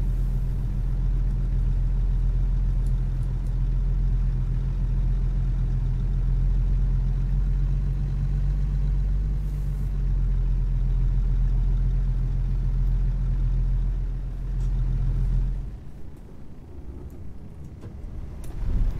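A Peterbilt 579 truck engine in American Truck Simulator rumbles at a steady, deep idle, then abruptly cuts out near the end as the engine stalls, leaving a quieter, unsteady hum.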